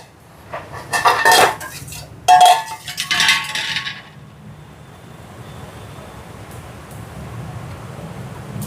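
Metal lid set onto a paniyaram pan: a few clattering, ringing clanks of cookware close by, followed by a quiet sizzling hiss.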